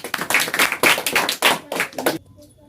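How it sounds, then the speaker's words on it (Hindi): Applause for group A on a quiz show, several short bursts of clapping from a small audience, loud and close, ending abruptly into quiet. "तो ग्रुप ए के लिए एक बार जोरदार ताली।"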